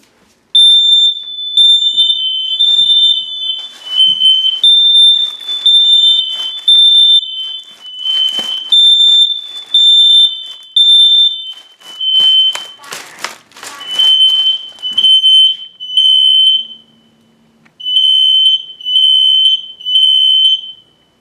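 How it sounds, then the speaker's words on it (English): Several home smoke alarms sound during a household safety device test, the highest-pitched one nearby, their loud piercing beeps pulsing in overlapping rhythmic bursts for the whole stretch with a brief gap near the end. "Highest pitch alarm in the house in my room."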